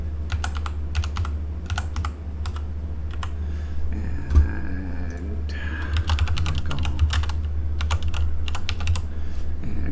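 Typing on a computer keyboard to enter credit card details into an online form, with bursts of quick, crisp keystrokes separated by short pauses, close and clear over a low steady hum.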